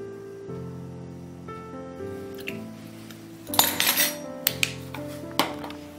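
A spoon clinking against a bowl while olive oil, vanilla and other paleo ingredients are stirred together, a few light taps and scrapes in the second half over a steady background tone with music.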